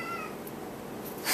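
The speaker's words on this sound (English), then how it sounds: "This cat has never seen a tripod before." A cat gives a short, faint meow close by in a quiet indoor room, a single brief call over low background hiss.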